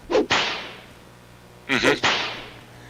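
Two sharp whip cracks from a sound-effects collection ring out, each a loud snapping burst with a short hissing tail, the pair separated by a pause of more than a second, close and without voices.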